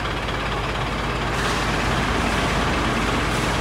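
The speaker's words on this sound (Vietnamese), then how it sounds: "Máy nổ róc rách rất là ngon luôn" A 2011 Dongfeng Truong Giang truck with a 9.2 m cargo bed sits with its engine idling, a steady, close, even rumble that runs for the whole stretch with no voices over it.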